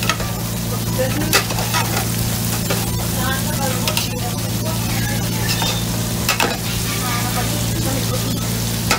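Hotdogs frying in a pan, a loud continuous crackling sizzle over a steady low hum, with occasional sharp clicks of utensils, close by.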